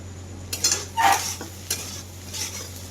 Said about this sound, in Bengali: এবার চাউমিন মশলা দিয়ে দিলাম, একটু নেড়ে চেড়ে চাউমিনটা ঢেলে দেবো।